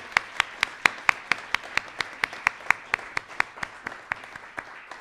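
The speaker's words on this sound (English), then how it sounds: "Let's give them another round of applause." Steady, evenly spaced claps ring out at a community building awards ceremony, crisp and fairly close, about four per second for five seconds over a quiet room.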